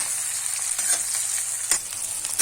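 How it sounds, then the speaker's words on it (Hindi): Onions frying until brown for mutton curry, a bright steady hiss of sizzling oil with intermittent crackles and stirring taps, close and fairly loud. "प्याज को ब्राउन होने तक हम उसे भूनते रहे"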